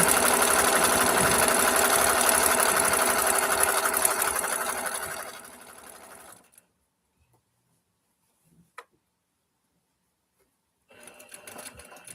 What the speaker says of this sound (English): Keep sewing.